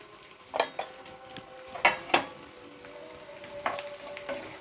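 Dried red chillies and curry leaves sputter in a small pan of hot tempering oil, sharp crackles and spoon stirs breaking out in a few loud bursts over a faint steady sizzle.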